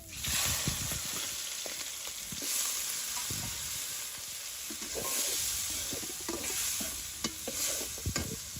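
Whole fish hitting hot oil in a village kitchen set up a steady, close frying sizzle with crackling spits and a few stirring knocks throughout.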